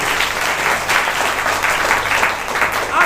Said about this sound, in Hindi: जोरदार ताली बजाइए प्रभु का महिमा के लिए।